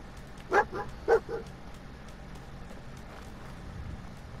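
The dog companion in the video game Fallout 4 gives two sharp barks, each followed by a softer yip, then the game's quiet ambience continues.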